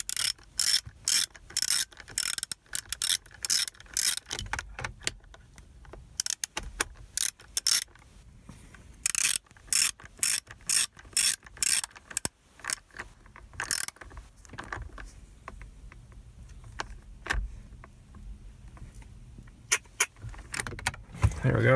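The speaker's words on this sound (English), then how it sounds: "and my torque wrench doesn't go that low, so I'm just gonna have to tighten them." Steering wheel screws on a 1997 Toyota Land Cruiser are tightened with a ratchet, giving quick bursts of close, crisp clicking separated by quiet pauses and some soft handling noise.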